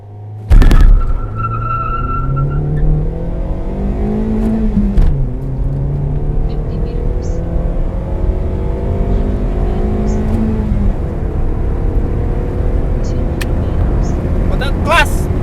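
A Toyota Vios on 17-inch TE37 wheels accelerates hard on a timed run, its engine note climbing steadily through the gears with a sharp knock at the start, loud and close from inside the car.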